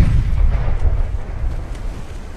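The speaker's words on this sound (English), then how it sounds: "We got a hit with an 8-inch gun." An 8-inch naval gun shell striking its target in Ultimate Admiral: Dreadnoughts, a heavy, deep boom that rumbles loudly and then slowly fades away, with no talk.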